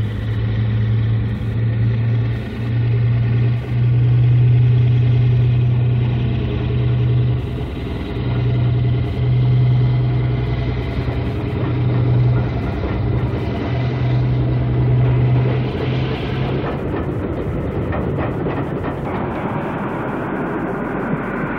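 A British Class 52 Western diesel locomotive produces a deep engine drone with a pulsing low tone that rises and falls. It then gives way to a broader rumble as it passes nearby, with no voices.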